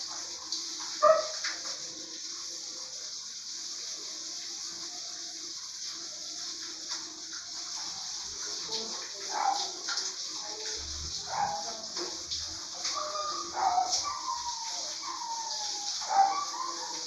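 A large dog being showered barks, yips and whimpers intermittently over a steady hiss of running water, fairly close, with several short vocal bursts clustered in the second half.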